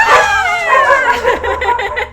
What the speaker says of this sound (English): The dog's going nuts